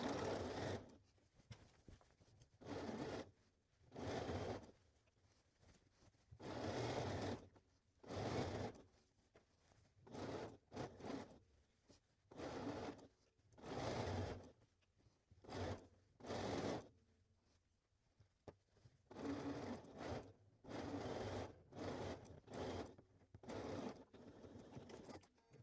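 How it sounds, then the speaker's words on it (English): A sewing machine stitching the waist seam of a dress, running in repeated bursts of a few seconds each with short pauses between, close and clear with no talking. "now we're just gonna sew the rest of the way around the waist until we get to the other side"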